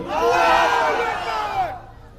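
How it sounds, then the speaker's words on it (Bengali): Elders in a religious gathering audience in Rangamati shout the takbir together, a loud, sustained crowd chant of many overlapping voices that swells and then cuts off. "শুধু মুরব্বীরা দিবেন লিল্লাহে তাকবীর"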